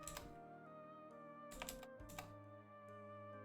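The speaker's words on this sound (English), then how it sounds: "Hang on, I'm typing that to the chat." Computer keyboard typing comes through as a few scattered key clicks in short clusters, quiet and close, over a sustained tonal background hum.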